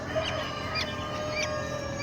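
Free-range Black Australorp chickens on a village farm let out a few faint, short calls over a steady, busy background hum, with no talking.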